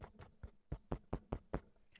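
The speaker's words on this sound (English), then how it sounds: "even if I hit on the mic there," A microphone set to low gain is tapped by hand about eight times in an uneven rhythm, giving quiet, dull thumps close up.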